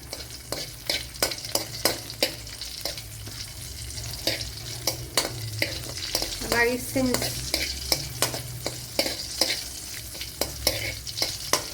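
Raisins frying in a tablespoon of ghee, a steady close sizzle punctuated by regular rhythmic taps and scrapes of a spoon stirring in the pan, with no talk over it.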